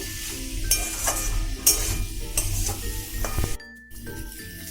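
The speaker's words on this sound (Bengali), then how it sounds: "আদা বাটা দিয়ে এটাকে আমি ভালো করে মিশিয়ে নেব এটাকে ভালো করে কষাবো" Garlic and ginger paste is stirred and fried in a pan for a Bengali prawn curry with okra and potato. A spoon scrapes and clinks against the pan in irregular strokes over a close, steady sizzle that briefly cuts out.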